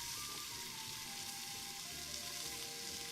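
A whole onion fries in a pot over a campfire, giving a continuous crackling sizzle with faint outdoor background noise and no talk.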